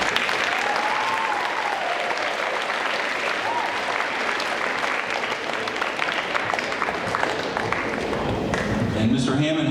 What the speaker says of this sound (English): let's take this time to show them your appreciation to your families and your teachers with a round of applause